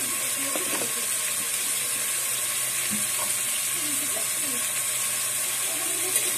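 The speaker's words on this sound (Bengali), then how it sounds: "হালকা ভেজে নিচ্ছি।" Dried fish (shutki) lightly frying in a pan, a steady, even sizzle with faint clinks and stirring sounds throughout.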